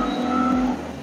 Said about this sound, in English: The supercharger whine on this is fantastic as well. It's so loud.